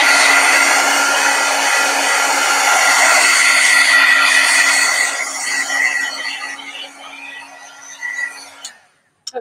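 A handheld hair dryer blows steadily at close range over wet paint on an art project, a loud continuous whoosh that tapers off and cuts out near the end.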